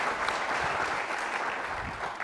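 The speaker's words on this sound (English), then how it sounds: "Give him a round of applause." An audience at an entrepreneurship pitch event applauds steadily, a dense wash of clapping that holds at an even level throughout without talking over it.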